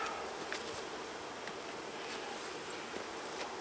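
Honeybees buzz around a freshly cracked-open hive during autumn mite treatment. The drone is steady and continuous, fairly quiet and close, with a few louder passes of single bees flying by.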